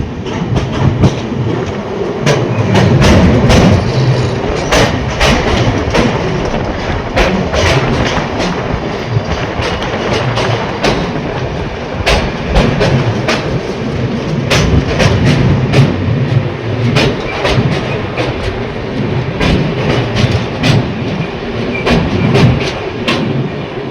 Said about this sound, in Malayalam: ട്രെയിൻ ഒരു പാലത്തിലേക്ക് പ്രവേശിച്ചുകൊണ്ടിരിക്കുകയാണ്.